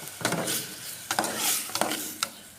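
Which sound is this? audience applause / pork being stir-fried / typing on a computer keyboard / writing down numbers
pork being stir-fried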